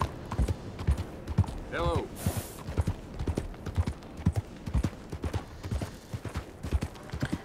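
Horse hooves clip-clopping in Red Dead Redemption 2, a steady, close rhythmic run of hoof strikes with a brief whinny partway through, while a person talks over the gameplay.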